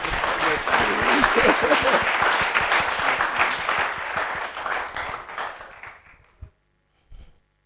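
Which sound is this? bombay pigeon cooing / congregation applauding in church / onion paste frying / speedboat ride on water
congregation applauding in church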